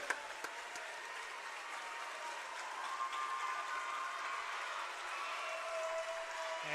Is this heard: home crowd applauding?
yes